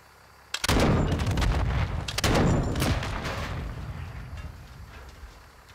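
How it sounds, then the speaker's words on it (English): Gunfire in the video game Call of Duty DMZ: two loud bursts of shots close together, with crackling reports and a long rumbling tail that fades slowly, no talk. "There's someone shooting."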